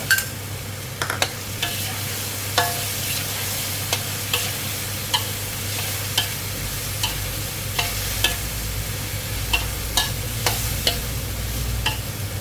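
Squid and straw mushrooms are stir-fried in a pan for a spicy basil dish, with a steady sizzle broken by regular, sharp scrapes and taps of the spatula.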